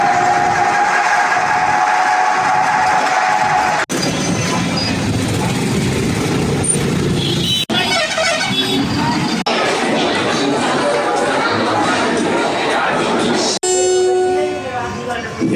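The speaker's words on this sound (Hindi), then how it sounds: "Welcome to Agra Camp Railway Station." Busy Agra Cantt railway station with a train present, a loud continuous wash of rail noise, crowd chatter and whistle-like tones, with several abrupt shifts in the sound along the way.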